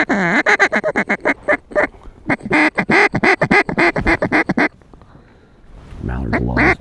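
Mallard ducks, greenhead drakes among them, quack rapidly and loudly over a dry field during a duck hunt, a dense run of close, choppy calls that pauses briefly before a few more quacks, with voices faintly mixed in.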